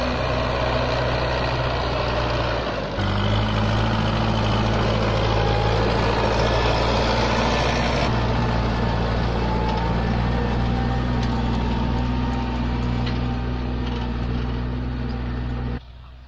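A tractor engine runs steadily in a farm field during ploughing, a loud continuous low drone with constant idling rumble for the whole stretch, with no talk over it.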